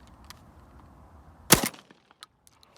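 A single sharp blast from a Tac-12 shotgun fired weak-handed, loud and close, with a short decaying tail and a few small clicks after.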